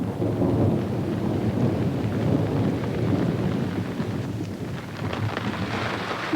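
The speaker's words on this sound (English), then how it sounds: "A sudden storm interrupts the work at the tomb." A sudden thunderstorm breaks over an ancient Maya tomb excavation at Caracol, with heavy rain hissing steadily and low thunder rumbling continuously beneath it, loud and close with no voices.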